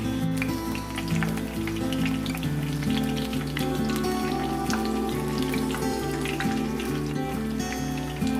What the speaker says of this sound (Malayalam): ഓരോന്ന് മാവിൽ മുക്കിയ ശേഷം ഒന്ന് വടിച്ചിട്ട ശേഷം എണ്ണയിലേക്ക് ഇട്ട് കൊടുക്കാം